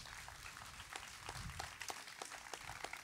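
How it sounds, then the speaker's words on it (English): Applause from a crowd at an outdoor park dedication concert, many hands clapping steadily together in a dense, close wash of claps, with no talking over it. "let's give him a big round of applause"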